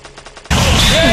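Gunfire bursts loudly in the Stickman Gun video game after a brief quiet pulsing lead-in, a dense sudden blast of shots and crashes that holds to the end.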